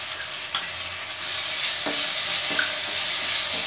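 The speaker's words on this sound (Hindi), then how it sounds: "अब हमारी प्याज गोल्डन ब्राउन फ्राई हो चुकी है, अब हम इसमें अदरक लहसुन का पेस्ट डाल देंगे" Onions that have turned golden brown sizzle and fry in a pan with ginger garlic paste, a steady close crackle with a few sharp stirring knocks and scrapes, and no voices.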